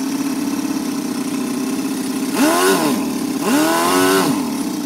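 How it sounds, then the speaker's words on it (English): A model FS-L400 engine, straight out of the box and running without its glow plug connected, holds a low, steady idle with a rapid buzzing drone, and its pitch twice briefly swells up and back down. "That's a nice low idle."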